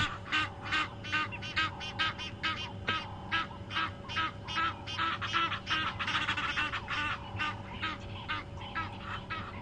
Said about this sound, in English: these are Egyptian geese.